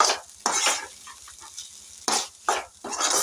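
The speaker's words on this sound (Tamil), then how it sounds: "இப்போ இதை நல்லா மிக்ஸ் பண்ணிக்கலாம்." Spoon stirring tomato rice in a metal pan: close, loud scraping strokes arrive in bursts with short pauses between them, with a light sizzle underneath and no voices.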